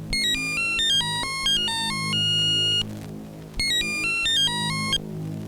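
An electronic phone ringtone plays a bright repeating melody twice, loud and close, with a short gap between the rings.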